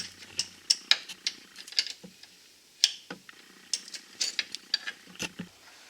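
Brake line fitting being tightened on a 2001 GMC, heard as a scattered series of close, sharp metallic ratchet clicks and ticks at irregular intervals with quiet gaps between them.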